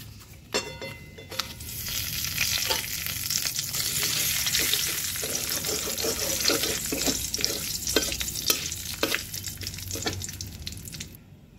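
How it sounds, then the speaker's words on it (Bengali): Panch phoron spices and a bay leaf sizzle steadily in hot oil left from frying fish, with scattered sharp crackles and pops across the continuous frying hiss and no talking. "পাঁচফোড়ন তেজপাতাটা ভাজা হয়ে গেছে"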